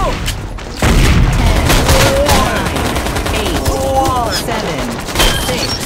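Gunfire in the online shooter Metro Conflict, dense bursts of loud close shots with booming impacts, and someone talking over the fighting.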